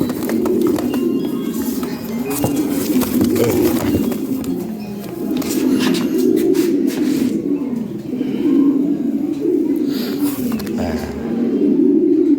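Fancy Lahori pigeons coo steadily and close by, a continuous low rolling murmur of several birds that carries on throughout, with occasional faint human voices beneath.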